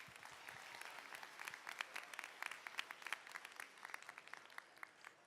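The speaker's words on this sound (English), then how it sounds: "Let's give them a round of applause." An audience at a student tech challenge awards ceremony applauds. The clapping is fairly distant, with sharper individual claps standing out from the dense patter as it builds slightly.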